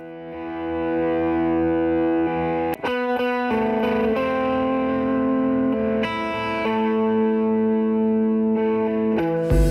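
Sustained distorted electric guitar chords processed through a UAD Oxide tape recorder plugin ring out continuously, thick and warm with a soft saturated edge and gentle compression, changing chord every few seconds.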